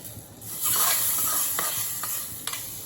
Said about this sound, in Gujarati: લાલ મરચું ઉપર રેડી અને નાખી અને ઉપર વઘાર આપણે રેડી દેવાનો